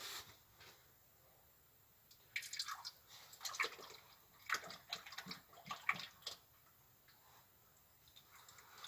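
Oil dripping along a truck's filter as the engine oil drains, a quiet, irregular run of small drips and trickles clustered in the middle of the clip, with near-silence before and after.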